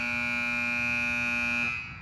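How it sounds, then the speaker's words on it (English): Alarm horns on a distribution training unit's test panel blare during a light and horn test, a steady, loud electronic tone held for nearly two seconds before cutting off. "I hear my master alarms that indicate that those speakers are working and that those lights are functioning properly"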